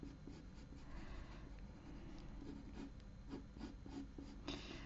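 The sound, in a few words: drawing with a Staedtler Mars pencil on paper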